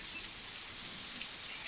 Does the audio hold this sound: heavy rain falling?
yes